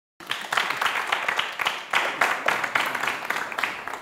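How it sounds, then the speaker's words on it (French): Studio audience applause on a French television music show, a burst of clapping that swells in uneven waves and carries on steadily throughout. "Ça s'acclame, ça."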